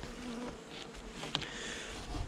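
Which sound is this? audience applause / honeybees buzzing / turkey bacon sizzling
honeybees buzzing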